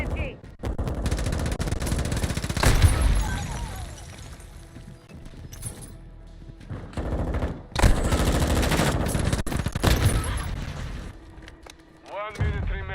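Rapid bursts of SMG fire in a video game, loud and dense with brief gaps, under game voice chatter and explosions.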